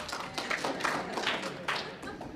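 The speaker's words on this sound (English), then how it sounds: "A smattering of applause, right?" A small scattering of clapping from a lecture audience at a public talk on Philip Roth, light and uneven hand claps, moderately close and brief.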